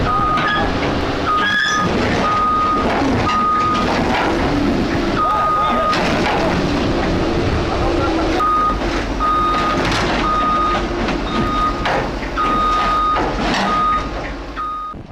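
Large excavator climbing onto a trailer at a heavy equipment site, its steady, loud reversing beeps repeating over a rumbling diesel engine and clanking tracks.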